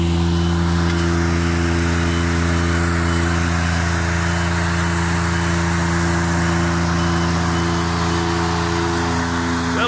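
An all-terrain 4x4 elevated work platform drives on a job site. Its engine hums steadily and close, with a constant tonal drone that could be a reversing alarm.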